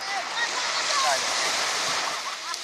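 Sea waves wash steadily at the shore of Semau Island, a broad continuous surf rush with no clear individual breaks, heard alone.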